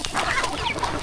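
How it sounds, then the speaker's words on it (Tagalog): Chicken clucking close by in a backyard, a short burst of several quick clucks with faint rustling underneath and no talk. "Munti na yung manok natin oh."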